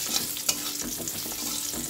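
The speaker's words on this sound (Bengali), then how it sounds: "তারপরে তেলের মধ্যে একটা শুকনো লঙ্কা আর একটু কালো জিরা" Dry chilli and black cumin seeds sizzling in hot oil in a pan, a brief soft frying crackle with a stirring scrape, no talk.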